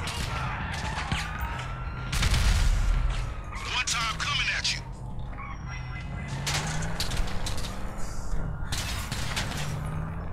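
Sticky bombs go off in GTA Online during a police fight, bursts of blasts and crashing debris around the two- and four-second marks, with further gunfire-like bangs, under constant game noise and ongoing chatter.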